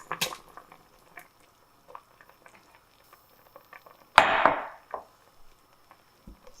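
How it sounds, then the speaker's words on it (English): Potatoes and carrots tipped into a pot of thickened SPAM chowder broth make one brief, splashy clatter midway, surrounded by faint scattered kitchen ticks and no talking. "You're going to add your potatoes and your carrots."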